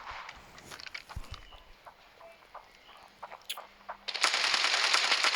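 Gunfire in a video game, with scattered, fairly faint shots and bursts mixed with footsteps and scuffling, ending in a louder continuous hiss-like blast of noise.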